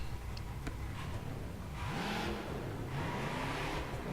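A 1967 Chevrolet Impala SS, a big, heavy stock car in the racing game The Crew, revs its engine in two rising surges over a low, steady rumble, fairly faint and with no voices.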